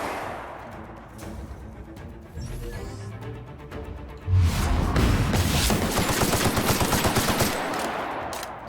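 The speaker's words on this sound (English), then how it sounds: "A couple more shots and we got him." Gunfire from a slightly damaged weapon in the video game The Outer Worlds, rapid bursts of loud shots that grow into a dense, continuous volley in the second half.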